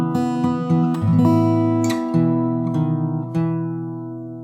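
A short fingerpicked acoustic guitar passage, a few plucked chords and melody notes ringing out close and clean, unaccompanied and without talking.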